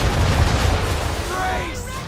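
Ship cannons firing in Assassin's Creed 3, a loud rumbling barrage of booms close up, followed by a shouted voice over the fading roar.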